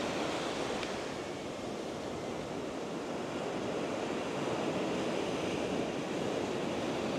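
Ocean surf rolls and breaks on the shore in a continuous, roaring wash of water, with wind buffeting the microphone; no voices are heard.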